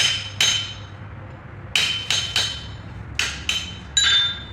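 A hammer strikes a chisel to cut hot steel at a blacksmith guild meeting: sharp ringing metallic blows, loud and close, in small clusters with short pauses between them.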